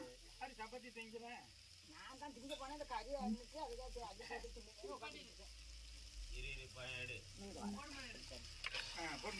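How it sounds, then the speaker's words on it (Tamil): Ginger and garlic sautéing in a pan for a village-style country chicken curry. A quiet, continuous sizzle with occasional stirring sits under steady talking. "இஞ்சி பூடு போட்டு நல்லா வதக்கிக்கலாம்"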